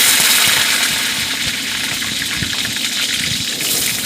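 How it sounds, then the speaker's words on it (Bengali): Potato pieces dropped into hot mustard oil in a kadai, giving a loud, steady gushing sizzle throughout with small crackling bursts and no voices. "তেল গরম হয়ে গেলে আলু ছিঁড়ে দিলাম তেলের মধ্যে"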